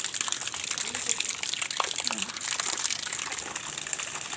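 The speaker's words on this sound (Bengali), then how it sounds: "এই দেখো পাম্পে জল পড়ছে" Water pours steadily from a pump pipe into a rooftop tank in a broad, continuous gushing rush with faint crinkling, close and fairly loud throughout.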